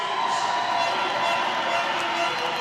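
Arena crowd at an ice hockey game applauding and cheering as a penalty is announced, a dense, steady roar of clapping and voices that stays at an even level throughout.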